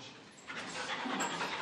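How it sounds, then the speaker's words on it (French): A police drug-detection dog pants quickly and steadily at a door during a drug raid, a soft breathy rhythm close to the microphone with no talk. "Un chien a détecté quelque chose derrière cette porte."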